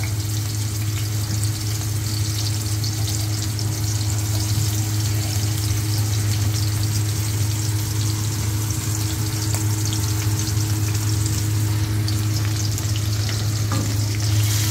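Ginger sautéing with snails for ginataang suso in a pan over a wood fire, a loud unbroken sizzle with a low steady hum underneath and faint stirring, no talk.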